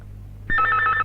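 A telephone gives a single short electronic ring, a bright warbling tone lasting about half a second, clear and close in a quiet room.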